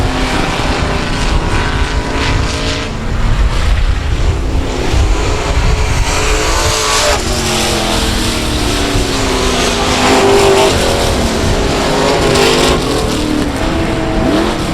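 Loud stock cars race around the oval at South Texas Speedway, engines roaring and revving continuously as several cars pass close, with rising and falling pitch throughout.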